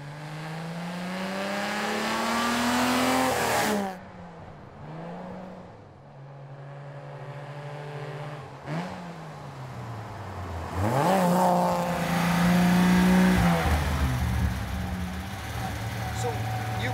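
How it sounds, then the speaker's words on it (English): A 1950 Alfa Romeo Disco Volante engine runs close by and is revved repeatedly, its pitch sweeping up and down, then settling into a rough idle before climbing again in a loud, sustained roar. "The sound is just like music. I want a recording of this engine."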